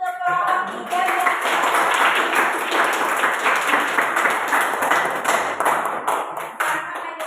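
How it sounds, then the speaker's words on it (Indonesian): Classroom applause for a student group, a steady round of many hands clapping close by for several seconds, fairly loud and continuous before tapering off. "Kita berikan aplaus untuk kelompok 3 ya."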